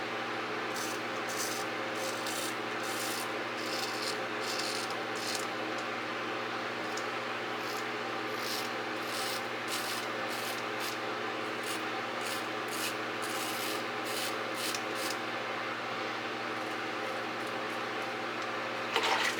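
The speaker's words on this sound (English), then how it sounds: "And you don't have to use the oscillating feature. You can just like that and shave." A 1930s King oscillating safety razor with an Astra blade scrapes steadily across whiskers, a continuous close, soft rasping run of short repeated strokes with no speech.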